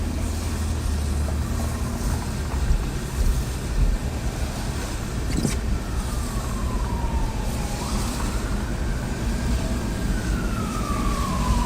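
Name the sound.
emergency vehicle siren, police or ambulance, on street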